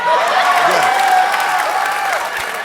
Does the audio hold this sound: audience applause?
yes